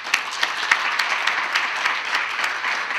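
A crowd claps steadily for Vietnam veterans, dense and sustained applause with scattered louder individual claps throughout, no voices standing out.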